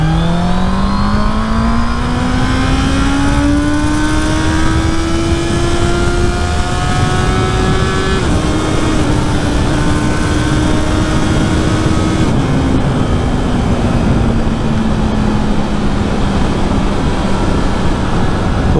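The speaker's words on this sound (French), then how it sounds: "Alors on va faire chanter le moteur" A 2024 Honda CB650R with E-Clutch, its inline four-cylinder engine revving hard through a long acceleration, pitch climbing smoothly then dropping with gear changes, loud and close with no talking.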